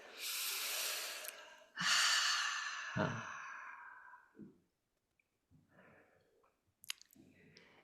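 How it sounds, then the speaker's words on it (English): Deep, slow breathing during a guided meditation: long audible inhales and exhales, close and soft, with quiet pauses between breaths. "Coming back into the body, really, 3 deep breaths."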